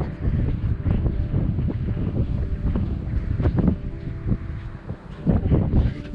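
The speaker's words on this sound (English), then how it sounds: "Hope this audio is okay. It's a little bit windy" Strong wind buffets a microphone outdoors by the ocean while camping, a steady low roar of gusting rumble with uneven surges, loud and close, with no one speaking.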